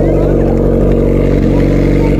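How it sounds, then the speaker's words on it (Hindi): A Suzuki Hayabusa motorcycle engine runs loudly and steadily at close range, a deep idling rumble with a rough, pulsing throb throughout. "इस बाइक का आवाज सुनने में कितना मस्त लग रहा है"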